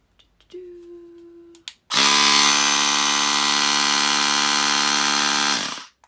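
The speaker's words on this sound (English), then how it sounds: "you shove it onto your valve stem, and then you can turn it on, and it can pump" Portable electric tire air pump switched on at a valve stem, preceded by a faint tone and clicks, then a loud, close, steady high-pitched motor buzz for several seconds before it cuts off.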